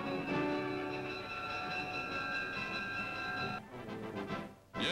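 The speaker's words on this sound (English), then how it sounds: "Boarding a special train for Washington, they'll tour 300 cities from coast to coast." A 1940s special train departing for Washington, with rolling wheels and sustained whistle or horn tones, loud and close, then breaking off near the end.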